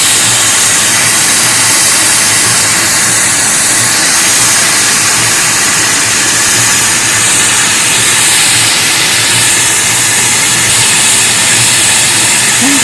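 Retro steam locomotive on a festive New Year excursion train at Lviv railway, hissing steam in a loud, continuous broadband rush with a low engine rumble underneath, steady throughout with no talk.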